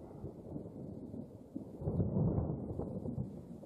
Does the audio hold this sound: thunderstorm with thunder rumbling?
yes